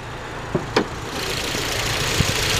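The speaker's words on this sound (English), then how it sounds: "Honda's K20, running strong, 2-liter dual overhead cam VTEC motor, variable valve timing" A 2008 Honda Civic Si's 2-liter K20 DOHC VTEC engine runs steadily under the open hood, a smooth, even hum with a couple of faint clicks near the start.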